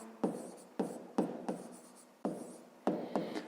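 A pen writes numbers by hand for a fifth-grade maths exercise, in a quiet close sequence of about six short scratching strokes separated by brief pauses.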